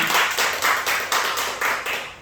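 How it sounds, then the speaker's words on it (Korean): Congregation clapping in rhythmic, steady bursts during a Korean church Wednesday worship service, a room full of hands striking together repeatedly for about two seconds with no talk over it. "박수 한번 하세요. 박수."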